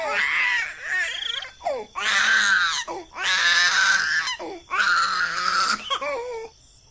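A little girl in a Hindi horror cartoon cries loudly in three or four long, wavering, high-pitched wails, with short sobbing gasps between them and no other sound.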